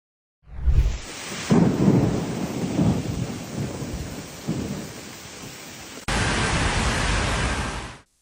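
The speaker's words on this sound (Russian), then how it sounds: "По западным регионам Польши прошел мощный грозовой фронт." A powerful thunderstorm sweeps over western Poland, with loud rumbling thunder over heavy rain, then a sudden cut to a steady downpour.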